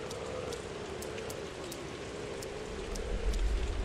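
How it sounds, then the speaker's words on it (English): Steady rain falls in the Pathologic 2 video game, a continuous even hiss of drops with a low rumble swelling near the end, heard alone without talk. "God, with the rain, this looks quite scary."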